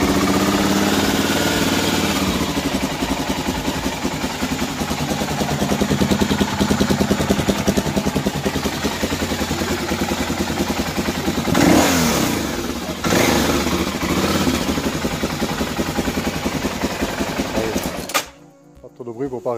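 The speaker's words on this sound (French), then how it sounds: "Je vais le mettre en route. Hop, un petit peu de starter." A BMW motorcycle engine is started with a little choke and then idles with a steady throbbing rumble close by, rising briefly in a couple of revs before it cuts off near the end, with someone talking over it.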